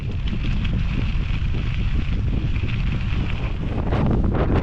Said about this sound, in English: Must be gusting 35, 40 mile an hour headwind now